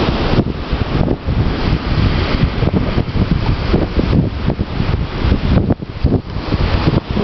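Ocean waves roll in at Akumal Bay beach in Mexico, a continuous rushing wash with surging swells, heavily mixed with gusting wind buffeting the microphone.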